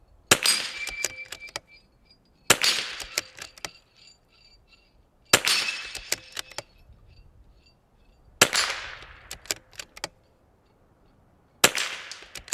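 Five sharp .22LR rifle shots from Sellier & Bellot or CCI ammo, each a loud crack followed by a ringing metallic tail, spaced a few seconds apart with quiet gaps between.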